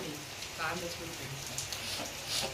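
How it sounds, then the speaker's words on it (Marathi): Heavy rain pours down in a steady, close hiss that runs throughout, with people talking over it. "2 तास म्हणा पाऊस उघडत नाही तर काय करायचंय"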